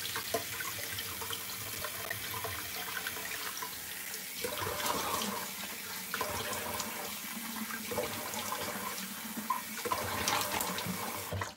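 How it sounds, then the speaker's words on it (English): Tap water runs into a bathroom sink in a steady, close stream, with splashing as cold water is scooped up after a shave with a safety razor, and nobody speaks. "Now I'm gonna close it off with some cold water. A splash of cold water."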